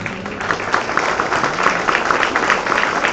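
A Christian congregation at a Sunday service applauds the Lord. The clapping is loud, dense and sustained, with crowd voices mixed beneath the hands.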